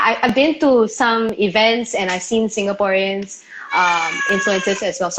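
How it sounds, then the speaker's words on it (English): A pet cat meows a few times close by during a conversation, its short cries blending with a person's steady talking and hard to pick out. "Sorry, that's my cat."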